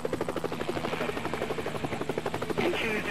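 Helicopter in the flight game Helicopter Simulator 2014, a loud, fast rhythmic rotor chop with a buzzing engine drone, steady and close, continuing without a break.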